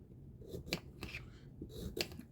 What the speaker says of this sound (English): we're going to cut our cucumbers. And I cut the ends off.